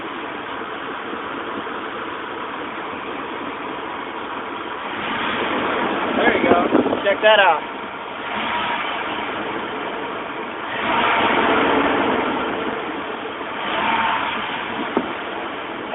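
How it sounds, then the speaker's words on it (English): Car engine fitted with a PCV catch can and cone filter idles steadily, then is revved in three separate bursts, the first the sharpest, with a person speaking briefly over it. "let's go ahead and see if I can kick the throttle from here"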